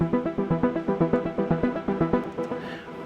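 A gritty synth patch from the Diva plugin pulses in a rapid, even repeating pattern of bright, buzzy notes, sustained throughout with no one talking.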